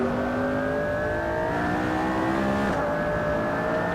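McLaren P1 supercar engine in the Assetto Corsa racing game, revving hard and climbing steadily through the gears as it accelerates, loud and continuous with no talk over it.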